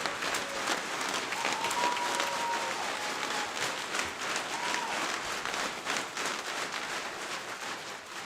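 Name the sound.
audience applause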